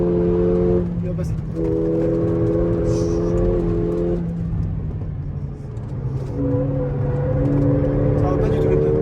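A Mercedes A45 AMG on the road toward the Nürburgring, with a loud, steady engine drone and rumble that shifts in pitch as a car passes, while people talk over it.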